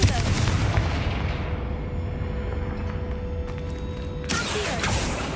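A Confringo spell blast booms loudly at the start of a video game scene, then fades into a sustained rumbling wash with a faint steady tone, before another burst of impact noise returns near the end.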